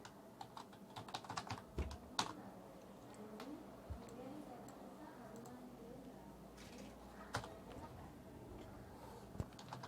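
Quick bursts of keystrokes on a computer keyboard while HTML code is typed, soft clicking in uneven runs with pauses, close but quiet against a faint room hum.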